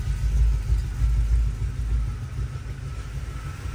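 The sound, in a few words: GM Performance crate 350 V8 engine idling after cold start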